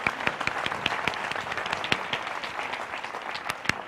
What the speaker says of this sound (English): I think a big round of applause for her.